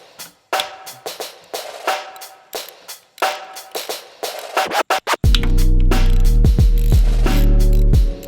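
A ratchet working on the bolts of a Honda Grom's stock oil pump, first scattered clicking and scraping, then a sustained loud run of fast ratcheting clicks close up, with no talk.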